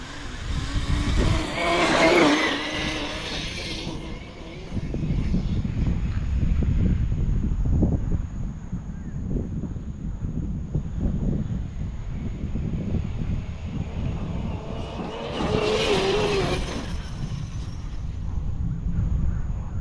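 Fast RC car running a Castle Cobra 5 ESC on 6S lipos, a high electric motor whine with bursts of acceleration that rise near at the start and again toward the end, mixed with wind buffeting.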